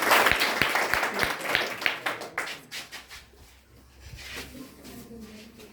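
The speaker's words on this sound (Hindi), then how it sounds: "चलिए जोरदार ताली बजाइए।" Audience applause at a school toppers' awards ceremony starts as loud, dense clapping and then thins to scattered, slower claps that fade toward the end.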